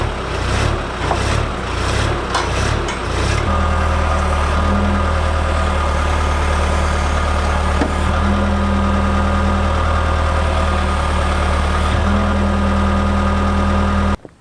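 A skid steer loader's diesel engine idles steadily at a construction site for a block foundation stem wall, a loud continuous rumble with a faint higher whine that shifts slightly partway through.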